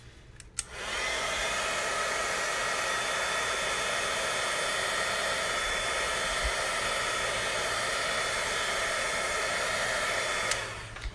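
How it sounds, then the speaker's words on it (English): Heat tool blowing hot air to dry ink on a handmade Christmas card, a loud, close, steady rushing hiss that starts with a click and runs unbroken for about ten seconds before cutting off. "But if you take your heat tool,"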